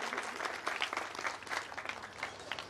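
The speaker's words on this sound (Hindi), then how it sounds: "इनके लिए बहुत जोरदार तालियां संजीव भैया के लिए" An audience at a Siddhachakra Mahamandal Vidhan religious gathering claps in a dense, lively burst of applause that swells and dips, with a faint murmur of voices underneath.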